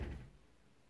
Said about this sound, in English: Why you open a door?